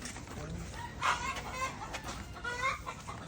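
Several chickens cluck and murmur close by in overlapping bursts at feeding time, with a few louder squawks standing out over low background noise.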